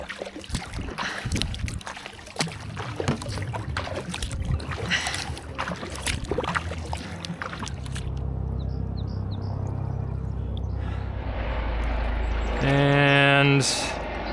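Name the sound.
paddling a boat across water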